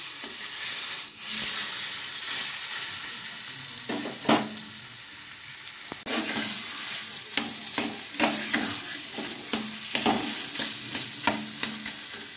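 Mashed cauliflower mixture hits hot oil seasoned with asafoetida and fries loudly, a constant sizzle broken by sharp scraping and stirring knocks of a spatula against the pan, growing more frequent toward the end.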